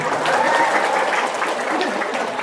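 An audience breaks into loud applause at a religious talk, dense clapping from a large crowd that holds steady and close for the whole stretch, with a faint tonal sound briefly audible underneath.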